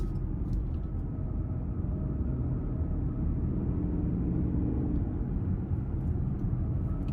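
A 2023 Lincoln Corsair Grand Touring plug-in hybrid with a 2.5-liter engine, heard from inside while driving, gives a steady, muffled low rumble of engine and road noise with no talk.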